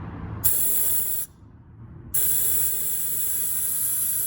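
Compressed air hisses into a hole in the cracked drum of a 6L80 transmission from a 2007 Denali, two loud, close bursts with a short pause between them.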